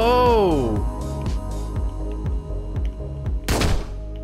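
Gunfire in the video game Hotline Miami 2, a run of sharp repeated shots over a droning music bed, with a loud burst near the end.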